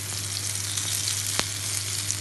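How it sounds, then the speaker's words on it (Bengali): Eggplant slices fry in a pan with a steady, close crackling sizzle and a low hum beneath, a single sharp pop near the middle, and no voices. "বেগুন ভাজি দিয়েছি। বেগুন ভাজি হচ্ছে রুটির সাথে খাওয়ার জন্য।"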